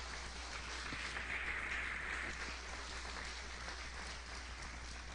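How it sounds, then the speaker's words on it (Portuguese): Church congregation at a Sunday celebration service applauding, a steady, even wash of many hands clapping, heard from a distance in a large room with a low hum beneath and no voices. "Você pode aplaudir bem forte ao Senhor"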